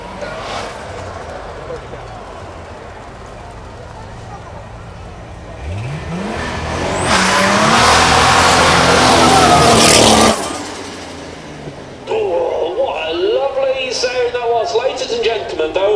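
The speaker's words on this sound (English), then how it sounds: "Let's see if we can have another bout of turbo flutter, shall we?" A Lancia Stratos engine revs up hard and holds a loud, high pitch before dropping off, followed by fluttering turbo chatter; a voice talks over parts of it.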